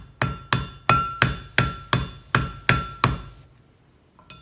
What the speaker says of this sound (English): hit the rivet with not too much force, with the round end of the hammer here so I don't hit my fingers